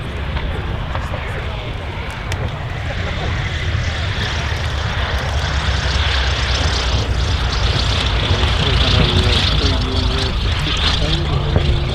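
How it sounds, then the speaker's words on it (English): A F4U-5NL Corsair fighter taxis out at an air festival, its piston engine giving a steady, loud propeller drone with broadband rumble and roar that swells slightly toward the end, with a voice talking over it. "Rolling out after a spellbinding performance in the F4U 5NL Corsair, Bernie Deal"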